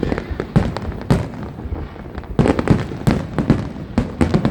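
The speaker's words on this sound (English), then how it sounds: "You can see fireworks in Abu Dhabi." Fireworks bursting over Abu Dhabi during the Eid holidays, a loud rapid series of sharp cracks and booms with short pauses between volleys.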